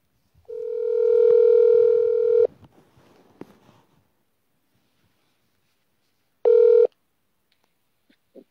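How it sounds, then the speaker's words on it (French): A telephone call being placed back: a steady electronic tone of about two seconds, some faint clicks, then a shorter matching tone burst after a pause of silence. "Nous la rappelons, la dame."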